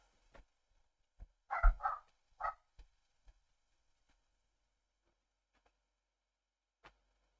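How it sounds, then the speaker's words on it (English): A dog barks in a short burst of several loud, close woofs, followed by scattered faint ticks and long quiet gaps. "Dog is out here going nuts."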